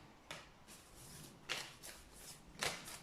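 Moonology Oracle cards shuffled by hand in several quick riffling bursts, soft and close against a quiet room, with no talking.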